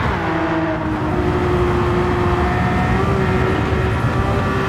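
Race car engine in a racing video game, revving hard and steady as the car brakes and turns through a corner, loud and close with a continuous droning whine and no talk.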